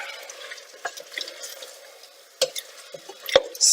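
Ingredients stirred in a pan of soup base for Maltese pasta soup, giving soft scraping and clinking pulses over a faint sizzle, with sharper utensil knocks near the end.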